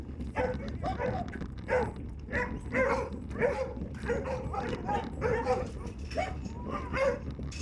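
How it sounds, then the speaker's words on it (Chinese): Several dogs bark and yip repeatedly at once, an overlapping chorus of barks at moderate distance over a steady background hum. "我们来算看看这边有几只狗狗。"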